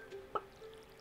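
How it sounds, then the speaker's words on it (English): Flowers are watered with a watering can in Stardew Valley, producing one short, soft splash of water, quiet and isolated, with a faint tone before it. "let's water these flowers"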